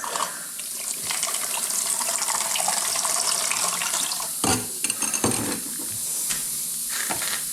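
Hot water runs from a tap in a steady splashing stream, close and fairly loud, with brief clattering bursts midway as items move in the flow.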